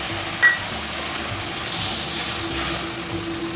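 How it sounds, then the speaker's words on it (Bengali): Water is poured into a cooking pot holding soaked tamarind water, a steady soft broadband wash running for several seconds near the microphone, with a low hum underneath. "আর আরও কিছুটা পরিমাণে জল দিয়ে দেবো"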